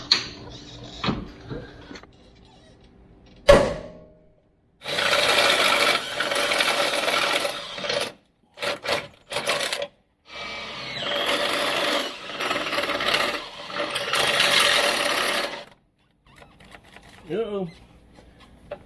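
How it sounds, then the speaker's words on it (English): A cordless drill bores holes into the frame of a Ford F-150 pickup during an air bag suspension install, in several loud, grinding bursts separated by pauses, with a short voice near the end. "I was only supposed to drill 2 holes on each side"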